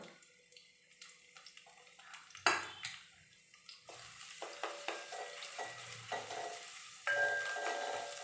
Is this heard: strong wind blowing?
no